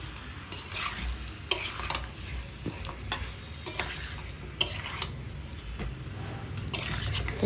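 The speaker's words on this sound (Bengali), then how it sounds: "আলুগুলোকে দিয়ে আরেকটু নাড়াচাড়া করে নিলাম" Potatoes are stirred into a simmering meat curry in a pan, with a steady sizzle underneath and sharp spatula scrapes and clinks against the metal at irregular intervals throughout.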